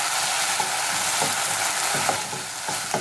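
A spoon stirs chili sauce into sizzling paneer 65 masala in a hot pan, close frying crackle with repeated scraping strokes and no voices.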